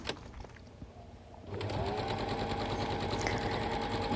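A sewing machine stitches fabric borders for a wall hanging. A quieter start gives way at about 1.5 seconds to a loud, steady, rapid whirring hum that runs close and continuous to the end, with no voices.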